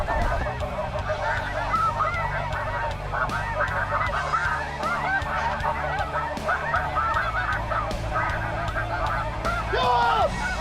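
Snow geese honk loudly and continuously in a large waterfowl flock during a hunt, a dense overlapping chorus of calls over steady background noise.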